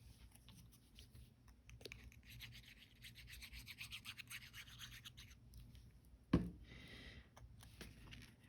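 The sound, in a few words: scuffing paper folder with a small tool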